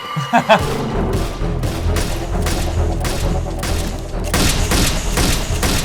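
Gunfire from a scene in the TV series Fallout, a sustained loud fusillade of rapid shots and booms over a dense soundtrack, with voices mixed in.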